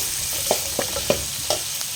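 Green chilies and ginger-garlic paste fry in masala for a potato fry, a continuous close sizzle punctuated by several sharp scrapes and stirs of a spoon in the pan.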